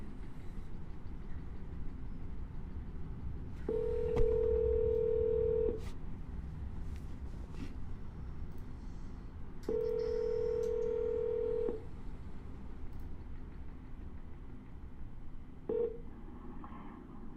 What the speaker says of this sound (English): We're going to double dial him.